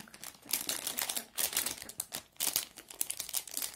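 Plastic snack packaging crinkles and rustles as it is opened, a close, continuous burst of crackling with uneven bursts and no talking.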